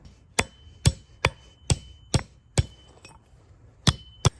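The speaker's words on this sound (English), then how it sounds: "get a hammer and bang this until it's crimped off flat" A hammer strikes a metal pipe end to crimp it flat for a homemade black powder shotgun barrel, about nine sharp ringing blows at an uneven, slowing pace, close and loud with no talk.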